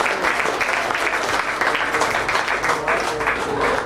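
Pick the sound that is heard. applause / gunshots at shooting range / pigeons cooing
applause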